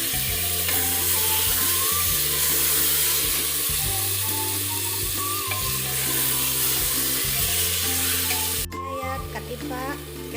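Goat meat tipped into hot oil sizzles and fries loudly and continuously in a pan, a dense steady crackle that briefly drops near the end as it is stirred.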